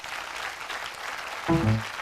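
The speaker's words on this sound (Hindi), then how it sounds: "मैं चाहता हूं इनके लिए एक बहुत जोरदार तालियां होनी चाहिए" Faint, distant clapping from a seminar audience applauding a top leader of a network marketing organization, a low steady patter that is briefly overlaid by a nearby voice toward the end.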